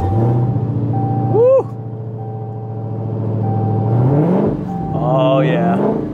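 Engine of a stolen, run-and-drive theft-recovery car being started and revved, a steady deep idle rising into throttle swells, heard mostly under loud, close talking.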